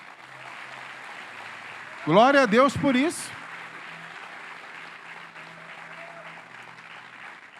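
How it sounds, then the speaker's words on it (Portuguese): A church congregation applauds during a sermon, with steady clapping filling the hall while a preacher's voice rises over it in a loud burst of praise. "Vamos aplaudir ao Senhor por isso?"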